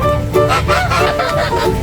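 Geese and other fowl in the bird zone of a Kanchanaburi maple garden and petting park honk in a dense, continuous chorus of overlapping calls, fairly close and loud.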